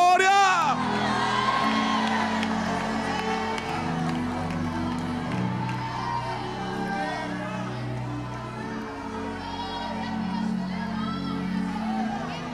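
Church congregation loudly shouting, whooping and cheering in praise, a sustained dense crowd roar that swells and holds for the whole stretch, with voices calling out throughout.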